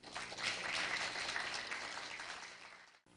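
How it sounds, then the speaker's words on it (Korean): An audience at a Korea University KU-KIST graduate school entrance ceremony gives warm, sustained applause, a soft, even wash of clapping that tapers slightly before cutting off. "뜨거운 박수 부탁드립니다."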